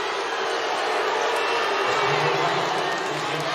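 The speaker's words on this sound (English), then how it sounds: "the crowd doesn't like that she draws the foul" A crowd at a Kentucky vs Indiana women's basketball game reacts to a drawn foul with a sustained, loud, broad roar of voices that holds steady throughout.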